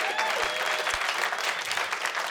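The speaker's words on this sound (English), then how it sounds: "Give it a round of applause for the venue" A comedy club crowd in Blackpool bursts into steady, dense applause for the venue, close and loud, with no talking over it.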